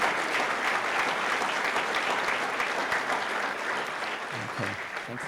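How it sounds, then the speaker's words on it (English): Sustained audience applause after a panel at a homelessness summit, steady dense clapping filling the room for several seconds, with faint voices near the end. "let's give these two a round of applause for this panel"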